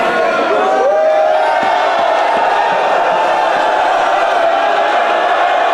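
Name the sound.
wrestling crowd cheering and chanting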